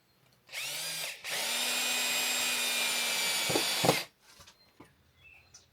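A power drill drives a screw into wood during a garden pergola build, whining loudly for about three seconds after a brief first burst, then stopping abruptly.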